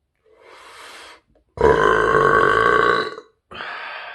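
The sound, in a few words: long deep burp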